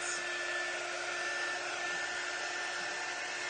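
A dryer blowing steadily on freshly painted craft pieces, a loud, even continuous whoosh with a faint whine and no talking.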